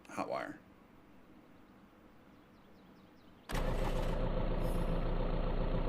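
A tractor engine in the survival video game Vein is hot-wired and bursts into a loud, steady running rumble after a quiet stretch, with a brief voice at the start.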